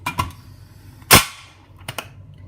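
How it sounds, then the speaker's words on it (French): The lid of a cocotte, a cooking pot holding simmering tajine of Jerusalem artichokes, peas, carrots and veal, is closed with one sharp, loud clank and a short ringing tail, framed by a few small clicks. "Je vais fermer la cocotte."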